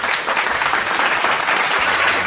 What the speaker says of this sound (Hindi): आपण मान सम्मुख में जोरदार करताली सहित स्वागत करिबा।